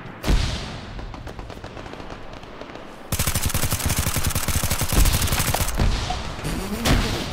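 A Promet 6.5mm rifle fires in the Arma 3 video game, with a lone loud shot and scattered rounds first, then a long, sustained burst of rapid automatic fire and a few final shots.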